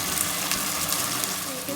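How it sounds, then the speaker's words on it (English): Tomato and onion gravy for Amritsari chole cooking in a pan, a steady close bubbling sizzle that continues without a break. "You can see the gravy is cooking now."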